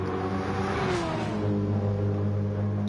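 Porsche and Renault race car engines from Gran Turismo 7 at Interlagos roar together, a loud sustained rising and falling whine as the cars accelerate and shift, with no talk.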